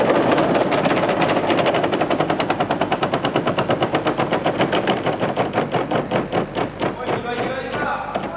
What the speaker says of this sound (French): Et Yvonne lance la roue.